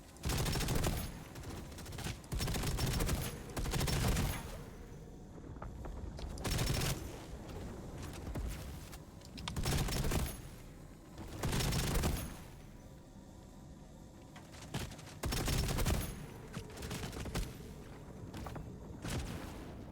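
Repeated bursts of gunfire in EVE Online as a boss is shot during the Operation Avalon event, loud volleys roughly every couple of seconds with short gaps, dense and close.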